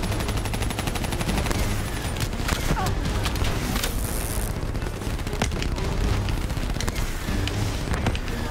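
Gunfire from the Call of Duty Black Ops 3 PS4 campaign rattles through a dense game mix, steady bursts continuing for several seconds amid booms and effects.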